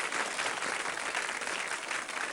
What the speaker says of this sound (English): give him a big, thunderous round of applause